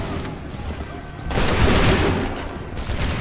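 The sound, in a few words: musket volley fired by soldiers, video game Assassin's Creed 3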